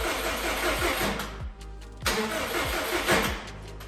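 Rebuilt Subaru STI engine cranking over on the starter for its first start, a loud close whirring grind with rhythmic pulses in two bursts separated by a short pause, no catching or voices.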